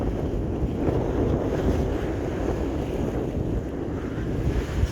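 Wind roars steadily over a sailboat on Lake Okeechobee, a dense, continuous rush of buffeting noise against the microphone, with water movement under it on an overcast day.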